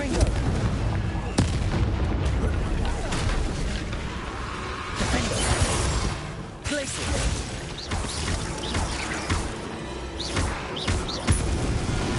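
Fiery Confringo blasting spells explode during combat in the video game Hogwarts Legacy, with booming bursts and crackling impacts over a dense, continuous battle din.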